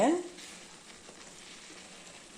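A pan of sweet boli filling being sautéed hisses with a soft, steady sizzle after a brief louder clatter of stirring at the start.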